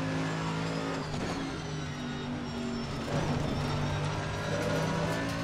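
A race car in Assetto Corsa Competizione, a Lamborghini or Audi Evo GT3, drives hard in second gear over curbs, its engine droning steadily and shifting pitch as it accelerates, with faint tire noise and no talk.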